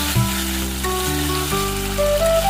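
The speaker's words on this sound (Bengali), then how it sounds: "এবার গরম জলটা দিয়ে দেবো" Mutton curry frying in a pot as hot water goes in, giving a loud, close, continuous sizzle and hiss over about two seconds, with no voices.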